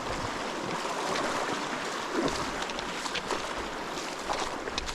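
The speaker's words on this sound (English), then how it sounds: "The creek is flowing into the trail" Creek water spills onto a hiking trail, making a steady, close, broadband rush and gurgle that continues without a break.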